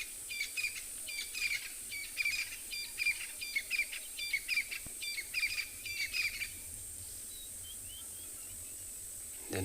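Crested francolin calling at sunset on safari, a rhythmic series of repeated bright call phrases for about seven seconds, moderately distant over a steady insect and cricket drone, then fading out.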